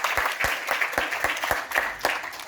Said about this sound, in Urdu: تالیاں بجائیں ذرا